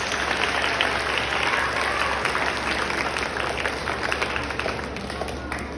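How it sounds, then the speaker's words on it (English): A school recognition day crowd claps steadily, a dense, continuous patter of many hands that fills a large room and holds at an even level throughout. "Can we please give ourselves a big round of applause?"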